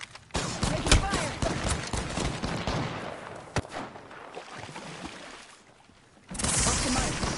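Dense gunfire bursts from a PS4 shooter game, with rapid shots and sharp single cracks layered over a busy game soundscape, easing off briefly before another loud burst.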